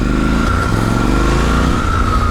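Triumph Scrambler 1200 XE motorcycle with its stock exhaust, engine running as a deep steady rumble with a throbbing low pulse, close and loud, with no talk over it.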